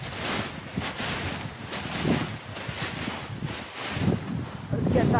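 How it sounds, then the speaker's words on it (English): Strong wind at a paragliding launch buffets the microphone, producing continuous loud gusty rumbling that swells and eases, with a person talking underneath. "wind is blowing in a little bit more from the west now, which is kind of nuts."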